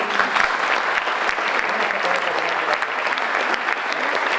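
Studio audience applause on an Italian television program, a steady, dense clatter of many hands clapping throughout, fairly close and loud, with no voices over it.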